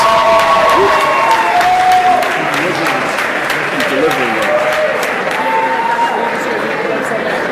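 Loud, sustained applause fills a banquet hall as a trophy goes to a women's volleyball team at a college athletics awards banquet, a dense wash of clapping from a large crowd with some cheering and chatter mixed in.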